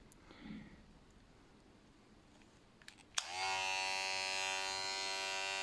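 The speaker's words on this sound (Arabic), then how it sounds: "حتى الصوت ديالها يعني صوت ما فيش صداع بزاف، يعني ماكينة يعني الصوت ديالها عادي" A VGR electric hair clipper switches on with a click after quiet room noise, then runs with a steady, close, high-pitched electric buzz and whine that holds evenly to the end.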